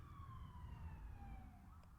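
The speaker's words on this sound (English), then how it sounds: "As we sign off to the fucking sirens." Emergency vehicle sirens wail past in a steady falling sweep, heard from some distance outdoors over a low rumble of traffic, with no talking.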